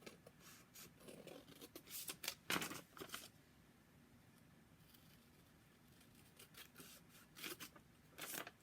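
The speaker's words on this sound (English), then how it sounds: "So we're going to carefully cut along that edge." Scissors cut along the folded edge of a paper envelope, giving close, crisp snips and rasping paper cuts in short clusters, then a quiet pause before another run of snipping.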